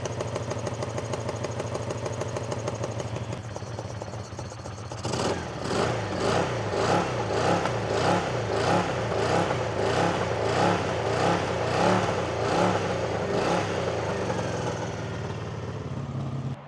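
A long-abandoned old Honda motorcycle idles with its choke set high, then revs up into a series of rising and falling throttle blips, loud and close, before settling back toward idle.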